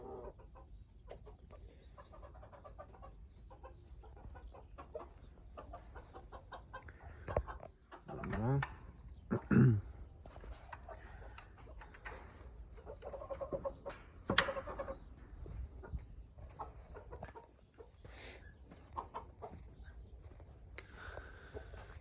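Chickens in sand cluck softly at close range, scattered bursts rising and falling over a long stretch, with someone talking quietly now and then.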